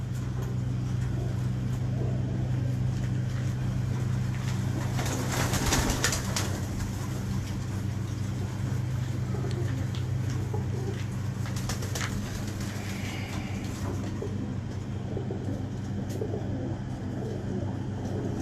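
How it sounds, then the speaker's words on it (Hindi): Sialkoti pigeons coo softly amid a steady low background hum, with occasional bird calls and brief rustles or wing flutters scattered across a fairly long stretch. "ये सियालकोटी कबूतर का बच्चा है"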